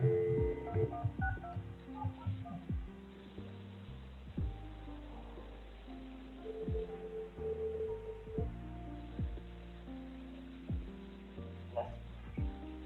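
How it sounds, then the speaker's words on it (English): Telephone keypad dialing tones, a series of short, distinct beeps in uneven groups, heard up close and mostly alone with faint talk in the background. "Maybe I dialed the wrong number."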